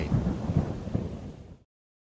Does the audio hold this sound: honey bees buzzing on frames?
no